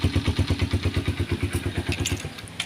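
A motorcycle engine running after a kick start on a cold morning, a close, loud, rhythmic idle thumping in a steady pulse that slows slightly toward the end, with no talking.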